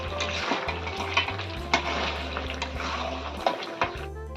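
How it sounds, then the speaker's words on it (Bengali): Ginger, garlic and onion paste sautéed in a pan with cooked-down tomato for a country chicken curry, steady sizzling with periodic spoon stirs and scrapes against the pan, close and continuous with no talking. "এখন আমি আদা রসুন পেঁয়াজ বাটা পেস্টটা দিয়ে দেবো আবার কিছুক্ষণ কষাতে থাকবো"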